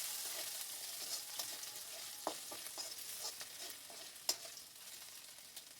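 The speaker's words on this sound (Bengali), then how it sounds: "রসুনটাকে ভালো করে ভেজে নেব।" Chopped garlic frying in a pan for an aloo dal recipe, a soft steady hiss of sizzling oil with occasional light scrapes and taps of a spatula, fairly quiet and with no talk.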